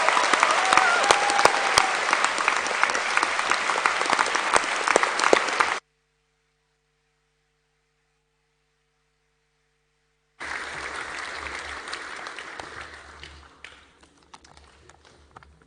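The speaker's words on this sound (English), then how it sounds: "A warm round of applause to welcome Sir Ashley Greenfield." Graduation ceremony audience in Auckland applauding to welcome a speaker, loud dense clapping that cuts to silence midway, then resumes more softly and tapers off.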